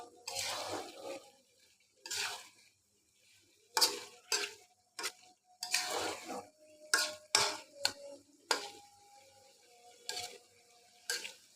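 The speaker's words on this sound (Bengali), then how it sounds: "এখন বাগার সমেত মিষ্টি কুমড়াটা একটু নেড়ে চেড়ে আমি আরেকটুক্ষণ ঢাকা দিয়ে জাল করে নেব" Sweet pumpkin cooked with Malabar spinach and a spice tempering gets stirred in a pan, quiet scraping strokes and soft clinks coming in short separate bursts with pauses between.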